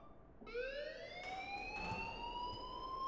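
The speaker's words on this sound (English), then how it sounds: "please turn off that alarm since that's your job." A school alarm in the video game Life is Strange starts abruptly and holds as a continuous, rising electronic wail with bright harmonic tones, fairly loud over a quiet background with no voices.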